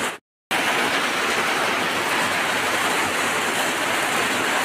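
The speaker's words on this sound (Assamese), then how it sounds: "এনেকৈ আজি বৰষুণ পৰিছে দেই" Heavy rain pours down in a dense, unbroken roar of hissing drops, loud and close, after a brief moment of silence at the start.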